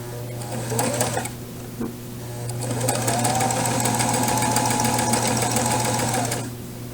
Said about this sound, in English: When you get to the end, you're going to back stitch again.